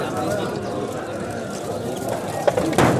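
Pigeons coo in low, soft murmurs at a busy pigeon market in Rahim Yar Khan, a steady backdrop of birds with people talking nearby and a couple of sharper knocks near the end.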